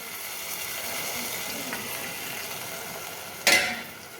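Sautéed onions sizzle steadily in a pot as tomato paste and ladles of broth go in for a stuffed grape leaves dish, with a single sharp metallic clank near the end.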